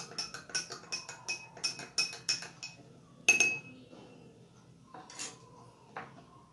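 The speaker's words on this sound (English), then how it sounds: "and I'm stirring it." A spoon stirs chili powder into a glass of water, making a run of bright, ringing clinks against the glass in a fairly even rhythm, then a louder knock and a few sparser taps near the end.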